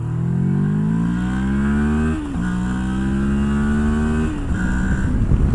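A Moto Morini X-Cape adventure motorcycle engine revs up in rising sweeps, drops briefly, then climbs again in a second long rev, loud and close with no talking.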